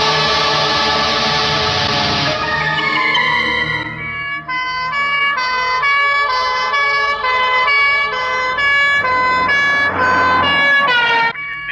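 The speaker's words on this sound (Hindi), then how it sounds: "एम्बुलेंस की आवाज यहां भी आ रही है, वो कहीं नजदीक है" A loud ambulance siren wails continuously, its two-tone pitch shifting up and down, close by with traffic rumble beneath.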